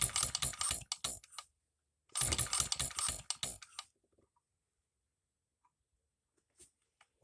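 Hit-and-miss model engine being rolled over by hand without firing, making two bursts of rapid mechanical clattering and ticking, then near silence broken by a few faint clicks.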